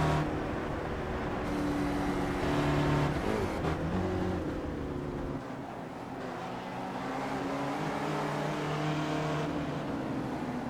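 SRF race cars at Summit Point Motorsports Park, engines droning and revving steadily as several cars pass close by in a continuous, loud stream.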